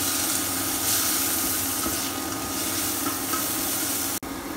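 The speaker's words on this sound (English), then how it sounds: "Stir it well" Tomato spaghetti sauce stirred in a pan: a dense, continuous wet sizzle and churning that runs steadily and loudly throughout, then cuts off abruptly near the end.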